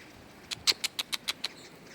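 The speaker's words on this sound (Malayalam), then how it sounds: "തള്ളപ്പക്ഷി മേളിക്ക മേളിൽ കിടന്ന് കരയുന്നുണ്ട്" A series of seven short, high-pitched chirping calls in a steady rhythm, fairly clear against a quiet background.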